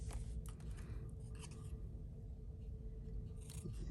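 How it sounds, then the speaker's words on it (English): Scissors trim the edge of a handmade cardstock card, giving a few soft, quiet snips and scrapes close to the microphone over faint background hum. "Let me get my scissors. We'll just trim this edge."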